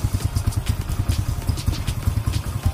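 Kanzen motorcycle engine, a 2004 Indonesian-made bike, idling close up with a quick, even pulsing thump and light mechanical clatter, steady throughout.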